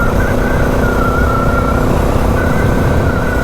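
Dirt bike ridden off-road in the dirt, a steady, continuous engine drone holding close and loud throughout with no pauses, under constant wind and road rumble, no voices.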